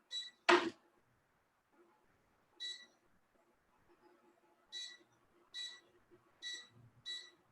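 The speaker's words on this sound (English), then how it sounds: "Sorry for the loud beeping noises." Sharp electronic beeps sound about six times at uneven intervals, bright and piercing over an otherwise quiet kitchen during cooking.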